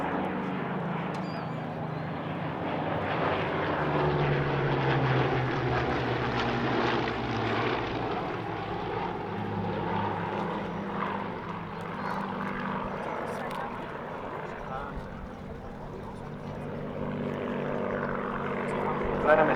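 Vintage warbird propeller aircraft flying at the Eastbourne International Airshow, with a steady, loud engine drone that swells and fades gently over the whole stretch while a commentator talks over it.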